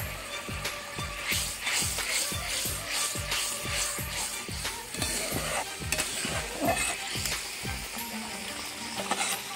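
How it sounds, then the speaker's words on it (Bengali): Spice paste with chilli powder and green chilli powder is stir-fried in hot oil. Close, busy sizzling runs throughout, with a regular scraping rhythm from repeated stirring strokes. "মশলা থেকে যতক্ষণ না সম্পূর্ণ পরিমাণ তেল ছাড়ছে ততক্ষণ পর্যন্ত এটাকে আমরা কষে নেব ভালোভাবে"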